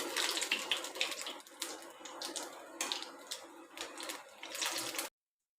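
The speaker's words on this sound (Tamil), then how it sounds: "ஒரு ஒரு உருண்டைகளாக சேர்த்துக்கிறேன் மிதமான தீயிலே பொரிச்சிக்கலாம்" Tapioca bonda balls frying in hot oil over a medium flame, a steady close hiss and crackle with irregular bright pops that continues without a break before cutting off abruptly.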